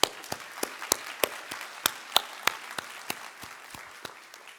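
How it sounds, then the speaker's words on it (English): Light, sparse applause from an auditorium audience at the investiture of President Anthony L. Jenkins, distinct individual claps spaced irregularly and fairly close, thinning out toward the end. "Let's start with a round of applause for President Jenkins."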